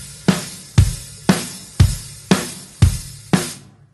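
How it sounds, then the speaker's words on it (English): A basic rock beat played on a drum kit, with bass drum, snare and open hi-hats sounding together. Seven evenly spaced, punchy hits land in a steady rhythm, each washing out with a ringing cymbal decay, and no voices are heard. "We're going to play the bass drum on the 1 and 3, snare drum on the 2 and 4."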